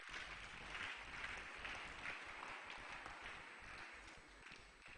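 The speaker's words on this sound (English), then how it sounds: "Please, another round of applause for the professor." A crowd at a diocese anniversary celebration gives a round of applause for a professor, a sustained, even wash of many hands clapping, heard at a distance and fairly faint, with no one speaking over it.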